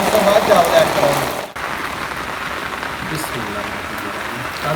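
Steady rain pattering on a surface outdoors, a dense continuous hiss that briefly drops out mid-way before resuming, fairly loud and near, with a cooking setting around it.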